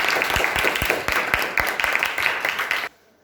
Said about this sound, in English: big round of applause for Savin.